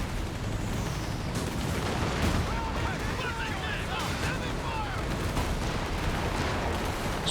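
A World War II battle in the video game Company of Heroes 3 throbs with constant booming artillery and gunfire. Whistling and chirping effects run through the middle, and it stays loud throughout.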